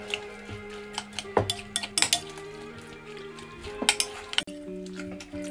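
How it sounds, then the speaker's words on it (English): Chimichurri with chilli flakes being stirred in a bowl, with a spoon clinking and scraping against the dish in irregular taps and rattles, fairly close and moderately loud, with no talking. "I'm going to put some chilli flakes in here. Give it a good stir up."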